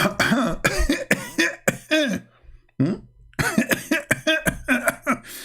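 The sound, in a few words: cough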